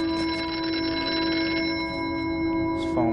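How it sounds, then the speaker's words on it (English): A telephone rings with a steady electronic trill in a horror video game, sounding out in a desolate spot, continuous and fairly loud through the whole stretch with a faint added tone near the end. "this phone ringing in the middle of nowhere"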